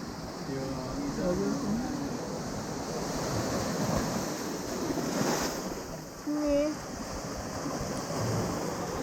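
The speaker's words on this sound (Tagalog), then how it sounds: "Ito yung mga alon dito guys." Ocean waves wash onto a sandy beach in a continuous rushing surf, with wind buffeting the microphone throughout and a brief louder gust near the end.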